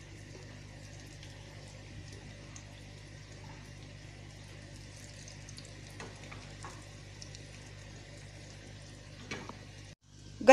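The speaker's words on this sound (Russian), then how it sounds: "Обжариваем с трех сторон на растительном масле до золотистой корочки." Cottage cheese bars fry in vegetable oil in a pan, giving a faint, steady sizzle with a few soft crackles and clinks toward the end, heard close and without talk.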